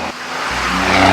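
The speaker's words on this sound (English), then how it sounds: "just because I love listening to that engine." A stick-shift, coal-rolling diesel pickup truck engine runs loud and near, rising in a strong revving surge over about a second.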